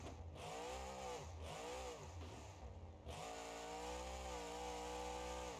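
A loud monster truck engine in the video game BeamNG.drive revs up and down in a few quick pulls, then holds a sustained high drone.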